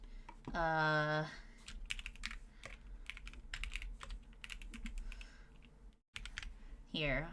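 Clicky switches on an Alice-layout mechanical keyboard clatter in quick, uneven bursts of keystrokes, close to the microphone, with a few brief bits of talk mixed in around the typing.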